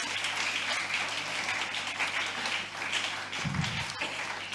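A church congregation applauds during a sermon, producing a continuous, fairly soft wash of many hands clapping with a brief low thump near the end.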